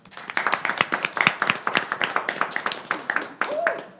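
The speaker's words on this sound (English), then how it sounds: "let's give another round of applause." A small audience at a 2019 student-government election candidate Q&A gives the panelists another round of applause, sparse and fairly close individual claps in an uneven rhythm, with some voices mixed in.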